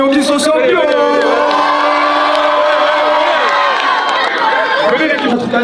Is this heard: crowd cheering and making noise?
yes